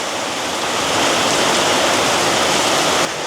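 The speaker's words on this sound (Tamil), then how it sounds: "மழையை பாருங்கள் அவ்வளவுக்கு மழை பெய்து கொண்டிருக்கு" Heavy rain pours down steadily in a village at dusk, a dense, continuous hiss of downpour filling the scene from start to finish without any voices.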